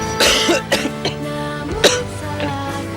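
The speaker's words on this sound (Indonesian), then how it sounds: "Kenapa batuk kan?" Several short, harsh coughs and throat-clearing sounds come in quick succession over a steady background hum.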